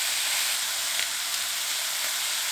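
Julienned potatoes with minced garlic, salt and pepper are stir-fried with chopsticks in an induction-ready GreenPan ceramic frying pan, producing a steady, even hiss with one faint tick partway through.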